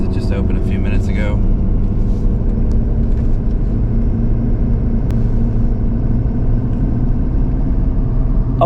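A vehicle idles and rolls into a busy local transfer station on a Monday morning, its engine a continuous low rumble up close, with someone talking over it at the start.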